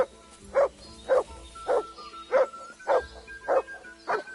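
A dog in the video game Kingdom Come II barks seven times at a steady, even pace, each bark loud and close against a quiet background.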